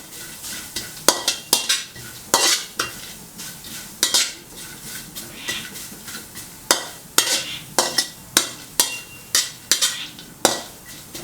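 Galangal and lemongrass are stirred and scraped while dry-roasting in a pan, with quick, irregular clinks and rattles of a utensil against metal, close by.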